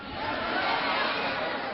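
An audience shouts answers at once in a mixed, divided response, a brief swell of many voices overlapping into a muffled roar that rises and holds for under two seconds.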